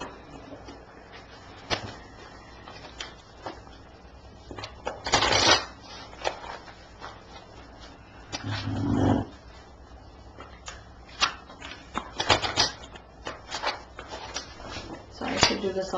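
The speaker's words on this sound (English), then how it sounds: "I was just shuffling them." Oracle cards shuffled by hand in scattered soft riffling bursts, close and fairly quiet, with a few brief louder flurries over a low room hum.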